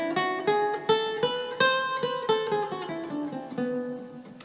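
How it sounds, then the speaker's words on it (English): Guitar plucking a neoclassical melodic minor scale, one clean note after another at a steady, moderate pace, ringing alone with no talking. "we use this melodic minor scale going up"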